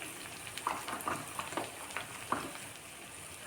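Spice powders of turmeric, chili, coriander and garam masala sauté in tomato masala in a pan, a steady soft sizzle broken by faint scraping stirs.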